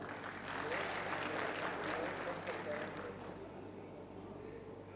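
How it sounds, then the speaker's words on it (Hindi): An audience at a Hindi kavi sammelan poetry recital claps in a brisk burst that thins out and fades after about three seconds, leaving a quiet room with a low hum. "थोड़ा तालियां बजा दीजिए।"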